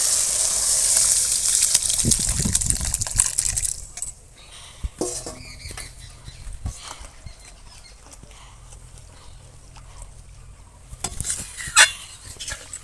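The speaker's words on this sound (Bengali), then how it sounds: "এবার আমি এর মধ্যে ডালটা ঢেলে দেবো সবজি সমেত ডাল" Vegetable dal is poured into a pan of cooked-down spices, bringing a gushing splash and loud hiss at first, then quieter stirring with spoon scrapes and occasional clinks against the pan, and a brief louder clatter near the end.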